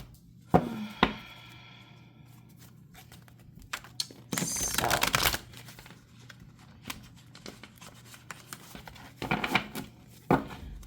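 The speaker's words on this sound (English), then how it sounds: "you'd think I'd get better at shuffling" A deck of tarot cards is shuffled by hand in a quiet room, giving a few sharp taps followed by a longer burst of riffling, then scattered soft clicks and light card handling.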